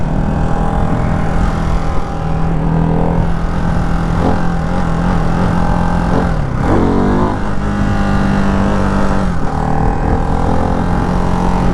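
A Ducati Hypermotard 698 Mono RVE single-cylinder motorcycle runs with a loud, constant engine drone, its pitch dipping and surging around midway as the throttle changes.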